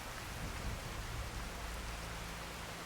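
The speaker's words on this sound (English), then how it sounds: "we've gone from a really miserable day to an absolutely pouring down with rain kind of day" Heavy rain pouring down in the Skyrim video game, a steady dense hiss of rainfall with no other sounds, constant and moderately loud throughout.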